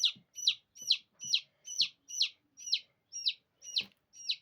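Chicks cheep and cluck in a steady run of about ten bright, high calls, evenly spaced and close by, with faint low thumps underneath.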